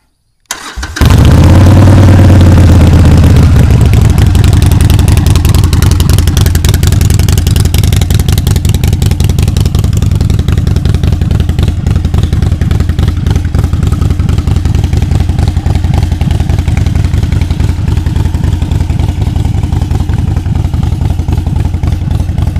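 A 2015 Harley-Davidson 48 motorcycle fires up close and loud after a brief crank, settling into a deep, lumpy, continuous idle with blips of revving that lasts throughout.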